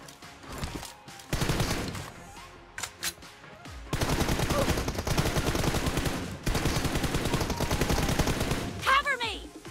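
Pistol shots and bursts of automatic gunfire from a mobile shooter video game, loud and close, coming in rapid clusters with short pauses across the clip, with no talking over them.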